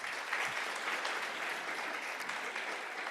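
An audience applauding a contestant at a school oratorical competition, a steady wash of clapping at moderate distance, fairly faint and even throughout.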